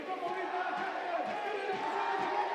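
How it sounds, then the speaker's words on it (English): Stadium crowd at a Jijantes FC versus Limon FC football match keeps up a distant, steady roar of cheering and chanting, faint and continuous throughout the short stretch with no clear breaks. "The crowd is going crazy for Jijantes."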